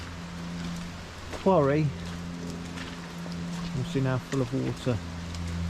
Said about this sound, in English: just take a moment to watch the rain as it's falling onto the water there